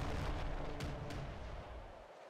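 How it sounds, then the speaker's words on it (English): Doom pistols fire in the video game Nuclear Throne, heard as dense, booming gunfire bursts with a couple of sharp cracks, fairly quiet overall, with no speech. "Doom pistols coming at you."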